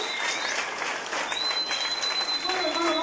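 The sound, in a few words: applause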